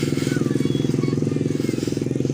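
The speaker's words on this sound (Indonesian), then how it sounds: "Ada yang naik motor ATV, motor roda 4 kan." A four-wheeled ATV quad bike engine putters with a rapid, steady rhythmic pulse in a park, loud and close throughout the short stretch.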